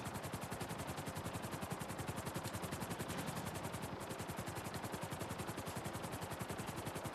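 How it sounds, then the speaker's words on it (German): Helicopter in the video game GTA 5 Online, a loud continuous rotor chop with fast regular blade thumps, steady throughout with no talking. "Oh, der Heli."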